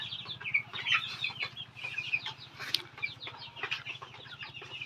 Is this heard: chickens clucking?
yes